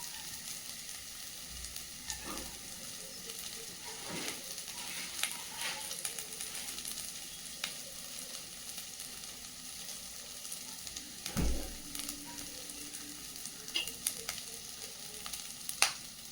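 A dried red chili frying in oil in a pan for sambar, a faint steady sizzle with a few soft clinks and stirring bumps, and no talk.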